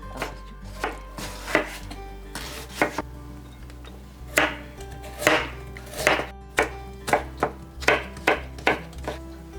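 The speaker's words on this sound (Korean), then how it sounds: "김말이에 들어갈 야채 썰어 올게." A knife chops vegetables on a cutting board for Korean gimmari seaweed rolls. Crisp, close strikes come in quick bursts of several cuts with short pauses between them, alone and without talk.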